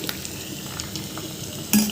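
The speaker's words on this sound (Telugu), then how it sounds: "పాలకూర పప్పుకు తాలింపు పెట్టాను చూడండి ఆవాలు చిలకర వెల్లుల్లి ఉల్లిగడ్డ ఎండుమిర్చి" Mustard seeds, garlic, onion and dried red chillies sizzle in hot oil as a tempering for spinach dal, a steady close crackle with a sharper clink of a utensil near the end.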